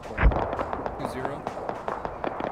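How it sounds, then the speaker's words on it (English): Incoming gunfire in the military shooter Arma 3 during an airfield assault, sharp cracks and pops scattered irregularly at mid distance, one heavier thump early, while players talk over the radio. "Shots coming in, northeast."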